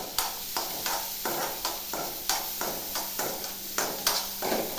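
Sweet corn is stirred in a hot pan, giving a steady sizzle with rhythmic scraping strokes about every half second, close and continuous, without talk.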